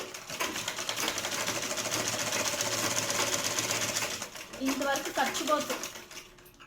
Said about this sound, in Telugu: స్టిచ్ చేసుకుంటూ వెళ్ళాలి